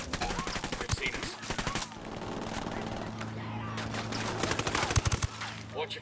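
Rapid automatic gunfire bursts in Ghost Recon Wildlands, loud and close, pausing briefly and then returning in a heavy volley, with voices talking over parts of it.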